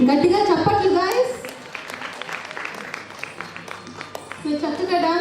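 An audience claps at a National Youth Day 2024 event featuring a Hyderabad classical dance academy, steady applause running under a speaker's amplified voice, which rises at the start and end.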